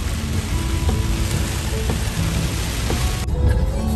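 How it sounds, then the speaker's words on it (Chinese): Heavy rain drums on a car driving along a road in Thailand, a loud, dense, steady roar that drops off abruptly near the end. "下了好大的雨啊， 好大的雨啊"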